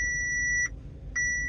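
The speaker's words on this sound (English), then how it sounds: "My car's doing this beeping noise." A car's sensor gives two steady electronic beeps, close and fairly loud, separated by a short gap and standing alone without any talking.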